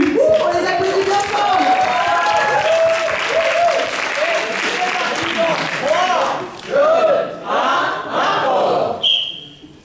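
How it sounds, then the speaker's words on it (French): Loud crowd applause and cheering for an improv team at a Paris improvisation match, with shouts layered over steady clapping, then fading bursts of cheers before it dies away. "On les applaudit bien fort."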